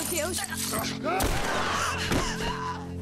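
Gunshots in The Last of Us Part 1 crack and boom amid tense in-game voices and shouting, with a couple of heavy impacts standing out in a dense, busy mix.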